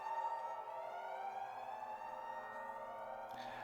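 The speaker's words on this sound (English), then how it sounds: "I hear the alarm ringing off in the distance, an incessant siren to notify all personnel on site of immediate accident" A continuous wailing alarm siren drones steadily from a distance inside the Cleaved video game, its pitch gliding slowly without pause, then breaking off near the end.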